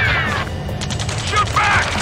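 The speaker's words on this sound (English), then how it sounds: "Return fire! Sierra 2, hold position! We're cut off! Taking fire!" Rapid gunfire and clattering weapons fill a firefight in the video game Ace Combat 7, with dense bursts over a steady low rumble and shouted voices in the background.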